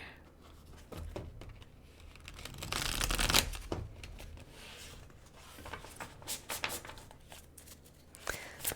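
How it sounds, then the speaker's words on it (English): Tarot cards being shuffled and pulled from the deck, with soft papery riffling and rubbing that swells to a louder burst midway, then lighter taps and slides as cards are drawn, close and quiet with no talking. "I'm going to pull a couple cards here."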